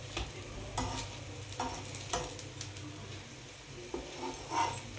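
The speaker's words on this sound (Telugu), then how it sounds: "అడుగున ఉల్లిపాయ అన్నీ కూడా బాగా కాలుతాయి" Small chitti pesarattu with onions frying in oil on a pan, a quiet continuous sizzle with scattered scraping and tapping of a spatula as the pieces are flipped, close but fairly soft, without speech.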